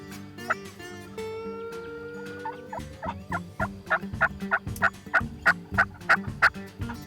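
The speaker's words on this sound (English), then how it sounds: "We've got 8 gobblers firing off all the way around us." Several wild turkeys gobble all around during a spring hunt, rapid rattling gobbles bursting out in a quick series, moderately near, with a softer call heard at first.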